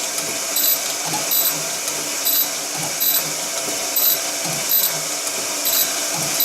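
A grinder stone works lightly across a steel V block, a steady close mechanical whir with soft rhythmic swishes repeating about once per second as the table traverses back and forth.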